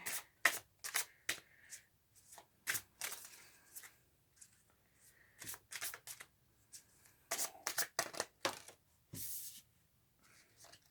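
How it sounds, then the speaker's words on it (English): Tarot cards being shuffled and handled in bursts of quick riffling flicks and soft slaps, close and fairly quiet, with short pauses between bursts and no talking. "I'm gonna pull a couple cards"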